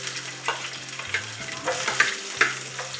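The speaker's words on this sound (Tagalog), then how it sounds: "Magigisa muna tayo ng sibuyas." Onion sautéing in a pan, a continuous close sizzle broken by several clattering spatula stirs and scrapes at an uneven rhythm, with no voices.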